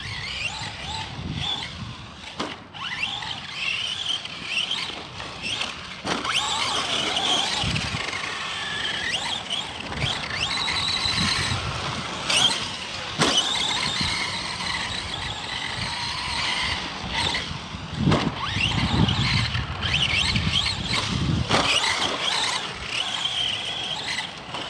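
An Arrma Senton RC car fitted with a Gool RC 3670 2850kv brushless motor on 2S spins out. Whining motor noise and squealing tires run throughout, with sharp bursts as it slides, recorded outdoors.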